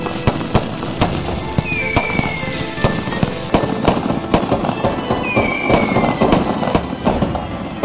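Fireworks and firecrackers go off in a dense, continuous barrage of sharp cracks and pops, with a couple of whistling rockets rising through the loud crackle.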